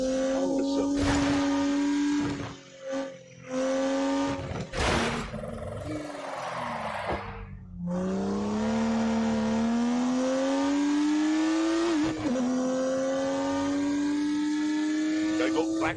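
Turbocharged 3-litre straight-six car engine in The Grand Tour Game, revving loud and close with a rising, strained tone, dipping briefly before pulling steadily upward again through a long acceleration.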